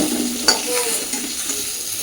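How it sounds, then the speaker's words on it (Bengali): Fish frying in hot oil in a home kitchen gives a steady sizzle with a light stir and a brief utensil clink, close and alone. "এদিকে আমার মাছগুলো ভাজা হয়ে গেছে"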